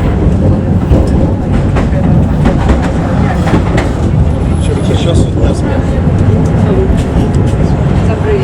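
A Tatra T4UA VinWay tram runs along its route with a steady, loud rolling rumble, rattles and faint wheel clatter filling the interior throughout, with a passenger announcement voice in the cabin.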